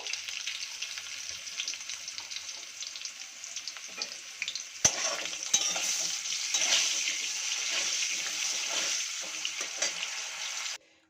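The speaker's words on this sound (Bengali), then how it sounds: "আর দিয়ে দেবো সামান্য একটু হলুদ দিয়ে আলুটাকে একটু ফ্রাই করে নেব।" Potatoes frying in hot oil with salt and turmeric for a catfish curry, a dense, bright, steady sizzle close by, with a few sharp knocks and stirring scrapes midway before it cuts off.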